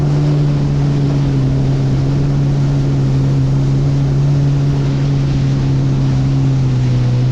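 A jet ski runs over the sea off Pserimos, its engine a loud steady drone with constant hull and water rush, continuous and close for the whole stretch with no voices.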